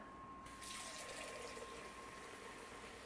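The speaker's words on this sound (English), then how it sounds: "We're going to put in some water" Water poured into a pickling pot already holding ketchup and maple syrup, a steady faint splashing stream that continues without pause.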